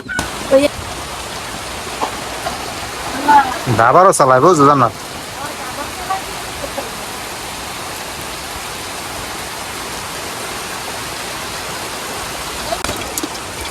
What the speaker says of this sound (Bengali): এই যে বাইরে দিয়ে অনেক বৃষ্টি হইতেছে